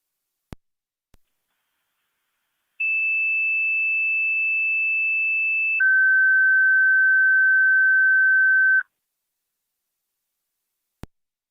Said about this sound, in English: Go ahead and hit our third set of tones.